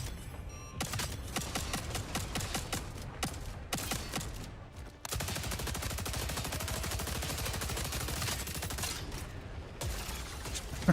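Light machine gun fire in a video game, rapid sustained bursts of evenly spaced shots that run almost without pause, with one brief gap midway, loud and up close.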